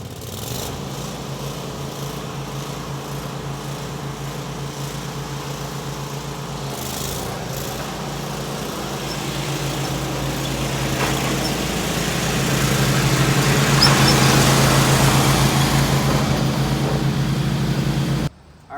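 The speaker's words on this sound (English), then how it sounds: "we're going to find out which one of these mowers is faster and top speed without mowing, throttle all the way up" Stand-on and sit-down zero-turn mowers run at full throttle without cutting, their engines droning steadily and swelling louder as they race closer, then cutting off abruptly.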